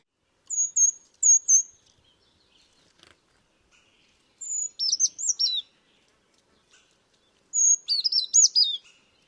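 High, thin brown creeper calls in an old-growth forest in Stockbridge, in short bursts: a few separate chirps, then two quick clusters of rapid, descending high notes, with quiet gaps between.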